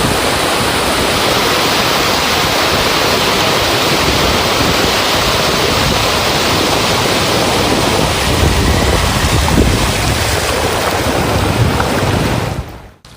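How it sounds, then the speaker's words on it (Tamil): Floodwater roars and gushes into the NLC coal mine at Neyveli after heavy rain, a loud, dense, unbroken rushing wash that fills the whole clip before cutting off abruptly at the end. "நெய்வேலி பகுதியில் தொடர்ந்து கனமழை பெய்ததால் NLC சுரங்கத்தில் தண்ணீர் ஆர்ப்பரித்து கொட்டுகிறது"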